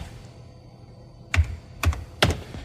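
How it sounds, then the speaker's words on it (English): A few separate keystrokes on a computer keyboard, three sharp clicks after a quiet stretch, close and distinct with no talk. "you can sit down and start typing in your theme"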